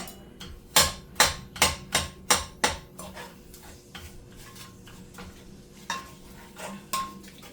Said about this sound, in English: Let's throw in the sofrito.